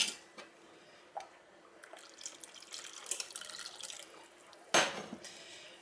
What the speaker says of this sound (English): so I'm going to add a bit more water.